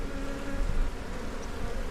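A close, steady drone of many honey bees buzzing continuously on a hive frame, a dense insect hum with no voices.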